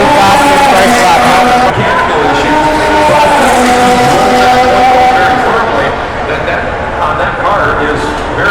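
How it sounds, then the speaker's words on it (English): Formula 1 cars lapping fast during second practice at the Miami Grand Prix, engine whine rising and falling continuously beneath a commentator's voice throughout. "the second practice session has started, and the cars are already going fast for the first lap"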